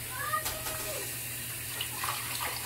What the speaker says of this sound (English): Just rinse that off.